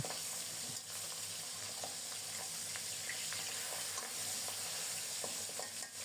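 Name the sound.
fish frying in oil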